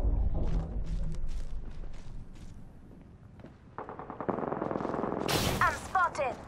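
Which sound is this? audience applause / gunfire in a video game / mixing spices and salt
gunfire in a video game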